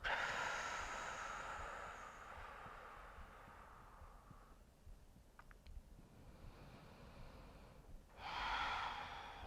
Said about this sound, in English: take a deep breath in, and a long, long, long, sweet, pleasurable breath out